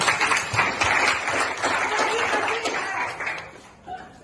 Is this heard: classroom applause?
yes